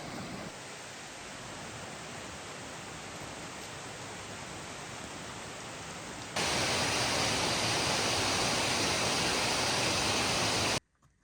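Waterfall at Comer's Falls on the Appalachian Trail after hurricane damage, a steady broadband rush that jumps abruptly louder partway through as if approached closely, then cuts off at the end.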